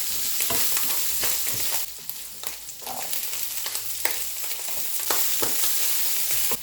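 Raw carrot frying in a pan for fried rice, a continuous sizzle with scattered crackles and occasional clicks of stirring, close and steady.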